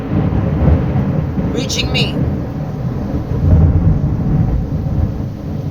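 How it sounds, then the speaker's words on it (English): Thunder from a storm rumbles low and steady in the background, swelling near the end, while someone talks over it. "All right, y'all, you heard that thunder."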